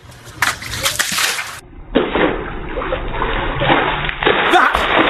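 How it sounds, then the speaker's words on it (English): A bucket of water thrown in a loud burst that splashes and splatters, followed by a longer sloshing, dribbling spill, close by and over a few seconds. "That is how you throw a bucket of water at"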